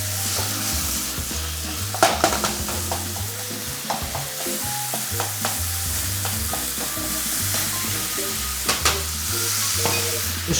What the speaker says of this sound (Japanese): ちょっと切るようにして炒めていきましょう